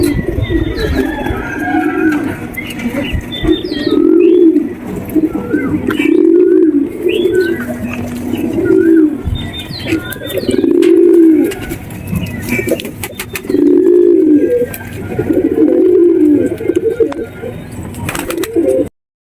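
Domestic pigeons, including desi and Sahranpuri pairs, give deep rolling coos over and over in a loft. The calls come in repeated bursts every few seconds, with soft chirps and faint rustling in the background.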